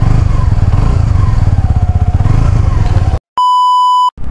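A Suzuki Gixxer 250 motorcycle with a six-speed gearbox idles loud and close with a rapid, even engine throb, then cuts out abruptly and is followed by a steady electronic beep.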